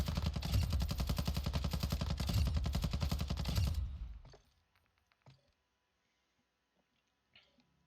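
A machine gun with a 100-round magazine fires one long, rapid, unbroken burst in Call of Duty Warzone, loud and close, then cuts off into near silence with a few faint clicks and thumps.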